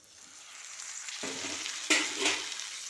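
Chopped tomato hitting hot oil and frying with ground masala for a Tamil fish curry, a sudden bright sizzle that swells and holds, with a second burst as it is stirred.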